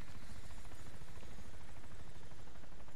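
A helicopter flies in the video game DayZ (Arma 2), a steady dense rotor and engine drone filling the whole stretch with no talk over it.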